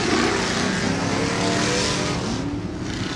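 A Sportsman-class race car roars past close by at a Bark River, Michigan track, its loud engine note rising and bending as it passes, with the howl of other engines behind it.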